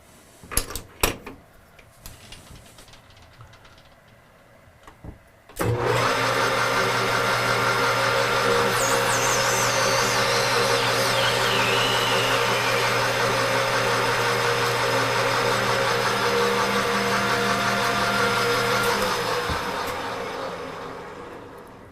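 A few clunks come first, then a lathe spins up to part off a machined part, giving a steady humming drone. A rising, squealing whine from the cut joins in midway, and the machine finally winds down.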